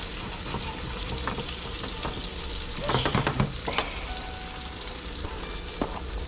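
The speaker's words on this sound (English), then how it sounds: "Let these mushrooms simmer down a little bit." Mushrooms fry with a dense, steady sizzle in a pan. A burst of stirring and clatter comes midway, then the sizzle settles back to an even hiss with a few light knocks.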